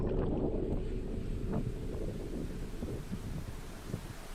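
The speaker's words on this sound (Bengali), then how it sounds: "নৌকাটা বেয়ে চলল" A rowboat gliding along a river, low rushing water and wind-like rumble with scattered knocks and splashes, fading slightly toward the end.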